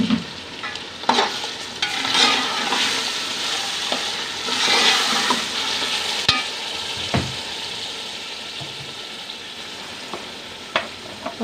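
Mutton pulao masala frying in a pot with the stirring spoon scraping through it, a steady broad sizzle with irregular clinks and scrapes, close and fairly loud, no talk.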